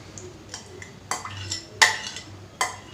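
A spoon stirs and scrapes a sweet flattened-rice and coconut mixture, made with no ghee, butter or oil, in a metal pan, with sharp irregular clinks and scrapes over a quiet background.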